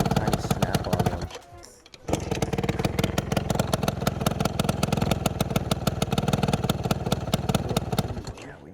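An Adly scooter engine runs in a workshop, its small motor chugging in a fast, steady putter that drops out briefly before catching again and continuing loud and close until it dies away at the end.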